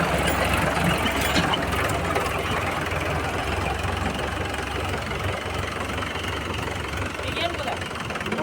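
A tractor engine chugs steadily nearby with a loud, rough idle and knock while farm work of loading fertilizer goes on, and people talk over the continuous engine noise.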